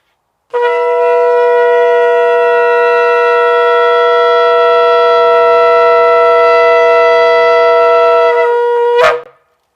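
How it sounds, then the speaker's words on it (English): A shofar sounded at a religious service, one long sustained loud tone held for about eight seconds with bright steady harmonics, cut off sharply at the end. "Let us ascend to the sound of shofar."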